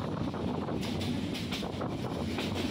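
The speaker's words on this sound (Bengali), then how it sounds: "এখন একটু স্পিডে আছে ট্রেনটা," Steady rumble of a train running at speed between Sreemangal and Dhaka, heard from inside a carriage, with broadband wind and rattling noise filling the whole stretch at an even, fairly loud level.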